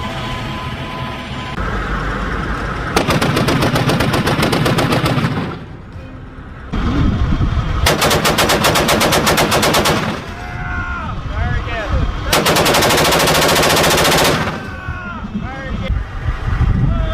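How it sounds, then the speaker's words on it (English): Bursts of heavy .50 caliber machine gun fire, three long loud rattling volleys separated by gaps of wind and engine noise, recorded outdoors in Iraq. "It has a specialized 50 cal machine"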